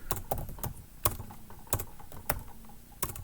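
Rapid typing on a computer keyboard, with sharp, close keystrokes in an uneven rhythm and a few louder key hits scattered through the run.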